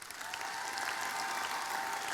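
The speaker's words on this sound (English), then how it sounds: "let's give him a round of applause." Steady applause from a large audience at an awards grand final, dense and continuous throughout at moderate distance, with no voices standing out.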